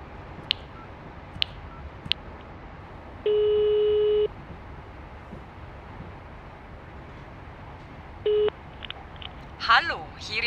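Three short dialing beeps, then a ringing tone lasting about a second, a pause, and a brief second ring, over faint background hiss.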